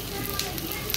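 Goat brain masala sizzles steadily in an uncovered pan, a dense, even frying hiss with faint crackles and no clear talk.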